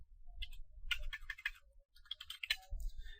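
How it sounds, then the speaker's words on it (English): Keys clicking on a computer keyboard as a command is typed, quick irregular bursts of close, crisp taps with a short pause midway, alone without talk. "So I'll just type ifconfig."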